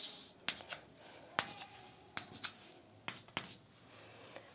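Chalk or marker drawing circles on a board during a maths lesson, a series of soft irregular scratchy strokes and taps, close and faint, with no talking.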